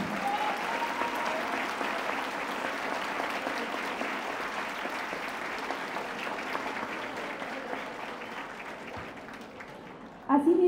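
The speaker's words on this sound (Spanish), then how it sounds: "creo que los docentes merecen un aplauso" An audience at an arts and humanities academic congress applauds its teachers with sustained, even clapping filling the hall for about ten seconds, fading slightly before a louder burst near the end.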